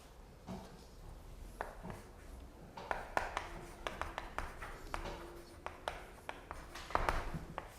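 A pen scratches and taps on paper in a quiet lecture setting, producing faint, close, irregular strokes and small clicks.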